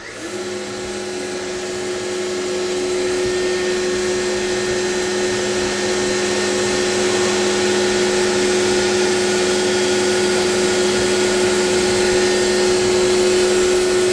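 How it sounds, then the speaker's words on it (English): A US Concepts FAS-101 arch moulder starts up and runs at full, steady volume, its loud motor whine holding a constant pitch with broadband cutter roar for the whole stretch, no voices. "we're going to turn everything on."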